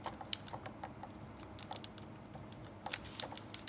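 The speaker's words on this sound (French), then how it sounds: "je vais couper la collerette de mon vin" A sommelier knife cuts the foil capsule below the lip of a red wine bottle, giving a quiet run of small crisp clicks and crinkles, close and irregular, with no talking.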